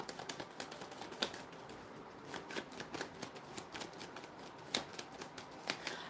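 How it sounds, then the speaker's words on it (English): Tarot cards shuffled and drawn during a live reading, a close, continuous riffling and flicking with rapid papery slaps at an uneven rhythm, fairly quiet throughout. "Three last cards, Jehovah, that you want to bring out."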